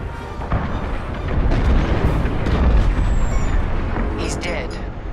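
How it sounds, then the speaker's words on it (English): A frigate blows up in the space combat game Star Wars Squadrons, a heavy rumbling explosion that swells and sustains for several seconds with crackling debris and bright high-pitched effects near the end. "The frigate is about to explode!"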